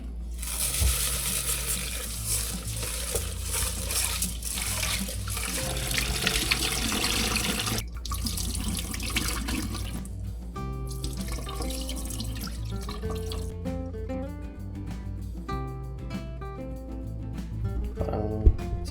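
Tap water runs steadily into a pot of rice in a small apartment kitchen, a continuous splashing stream over background music.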